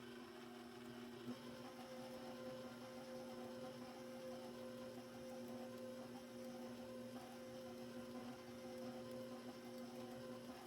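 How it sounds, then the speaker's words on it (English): An electric mixer hums steadily as it beats oatmeal raisin cookie dough with flour, a constant mid-pitched motor drone with a faint churning texture underneath, held at an even level throughout with no talk. "This will be the last time I use the mixer."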